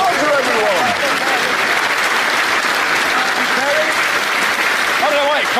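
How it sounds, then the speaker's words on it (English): A studio audience claps and cheers for a presenter who has just got his charger, a dense, loud burst of applause filling the whole stretch while someone talks over it. "I don't know why you're clapping it."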